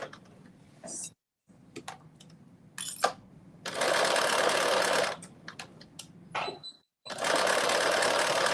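A sewing machine stitches ruffles onto a caftan sewn from Simplicity pattern 5628. It runs in loud, close bursts of steady whirring stitching, broken by short pauses and a few quiet clicks, with no talking.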